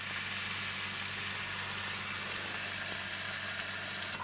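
A beef rib steak sears in a pan heated to 250–300 degrees, giving a loud, steady, close hiss of fat sizzling without pause and no voices.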